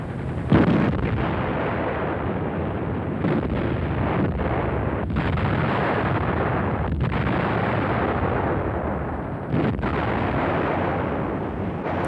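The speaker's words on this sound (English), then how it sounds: "these 105mm gun crews had to load and fire their guns day after day" German 105mm field guns fire in heavy booming blasts, with several distinct thuds spread over a dense, loud, rumbling wartime battle din and no voices.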